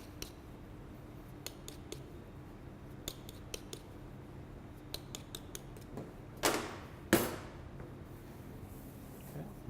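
A knife or scissors trims the pastry edge of a vegan vegetable and red wine pie, giving sparse, crisp snips and clicks, then two louder scraping cuts near the end, heard up close in a quiet kitchen.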